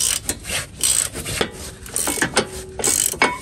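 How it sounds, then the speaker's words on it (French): Wrench working loose the brake caliper bracket bolts on a PSA EMP2 car, giving a series of sharp metallic ratcheting clicks and scrapes in short bursts, close and fairly loud, with no talk. "Dévisser ces deux boulons, il vous faudra une clé de 18."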